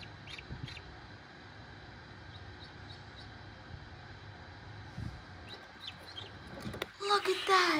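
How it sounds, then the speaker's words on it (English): A newly hatched duckling gives faint, high chirps above a steady background hum, and a louder rustle comes near the end. "Another little baby duckling is here."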